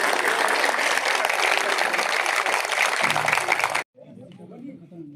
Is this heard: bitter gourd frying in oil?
no